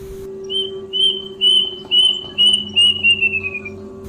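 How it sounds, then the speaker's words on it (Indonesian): A kedasi bird calls in a run of sharp, high, piercing whistled notes, about eight in a row with a sweeping repeated rhythm, heard clearly over a low steady hum. "suara burung kedasi yang begitu tajam di telinganya"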